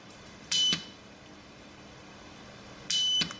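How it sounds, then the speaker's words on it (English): Two electronic beeps from a continuity tester checking a motorcycle starter relay, each a steady tone lasting about a quarter second, separated by a couple of seconds of quiet background hiss. "the beeper has to keep beeping all the time"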